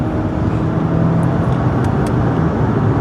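A 2025 Subaru Outback's turbocharged engine pulls hard under acceleration on the road, a loud steady drone of engine and road noise inside the cabin with no talking.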